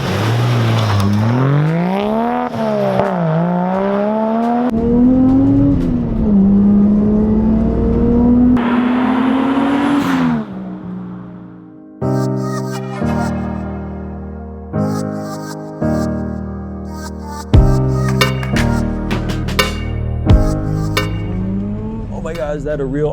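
A Nissan Skyline R34 with a single-turbo 1JZ engine driving: the engine climbs and falls through revs, then shifts into a stepped series of loud gear pulls with brief breaks between them, close and dominant throughout.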